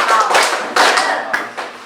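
A school class claps the rhythmic spirit clap together, several loud, sharp bursts of hand claps in a quick pattern, close and energetic.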